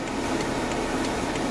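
Hazard lights tick inside a BMW X5 as a steady, faint, even click roughly three times a second over a constant cabin hum.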